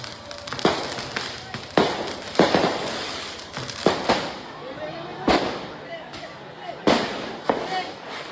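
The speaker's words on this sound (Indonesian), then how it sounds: "Dua kelompok ini saling serang menggunakan petasan dan juga kembang api serta batu." During a nighttime street brawl between two groups on Jalan Bonang in Menteng, Central Jakarta, firecrackers and fireworks go off in loud, sharp bangs about every second or so, with crackling between blasts and a news voice over them.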